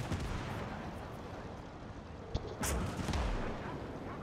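A tank gun fires in the WWII video game Call to Arms - Gates of Hell, one heavy booming shot midway through rumbling battle noise, with a low roll lingering afterward.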